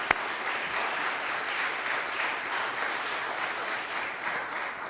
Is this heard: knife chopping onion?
no